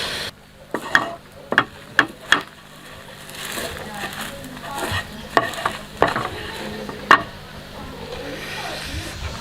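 Coca-Cola heated and boiled down in a pan, with a soft bubbling sizzle and several sharp scrapes and knocks of a utensil against the pan, close by.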